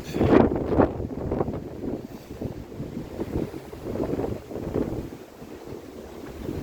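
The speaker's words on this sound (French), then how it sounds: "Là-bas on voit les vagues qui s'écrasent sur la plage principale des Sables d'Olonne" Distant storm waves surging and breaking on the main beach of Les Sables-d'Olonne during Storm Domingos, mixed with gusty wind buffeting the microphone, in uneven swells.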